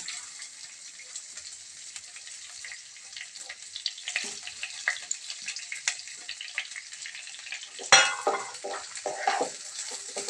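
Basmati rice roasting in oil and ghee with cloves and cinnamon in a pan, giving a steady soft sizzle with scattered stirring scrapes and a sharper clatter near the end, heard close with no talk.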